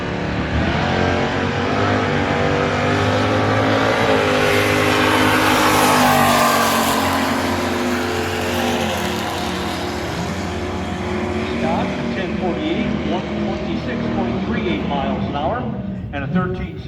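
Ford Mustang drag race cars, including a 1991 Mustang, roar loudly and steadily at a drag strip, engine noise swelling and then easing, with an announcer talking over the din throughout.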